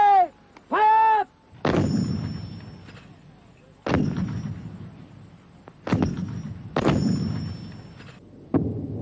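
Heavy artillery guns of 2 Para fire at Goose Green in 1982, four loud booming shots a couple of seconds apart, each with a long rolling decay, after a short warbling electronic tone at the start.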